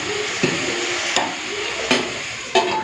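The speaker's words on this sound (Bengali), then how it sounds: "তো ওইদিকে বাঁধাকপিটা ভাজতে বসিয়ে দিলাম" Cabbage frying in a pan in a home kitchen, a steady close sizzle broken by a few sharp clicks and knocks of a spoon or lid at intervals.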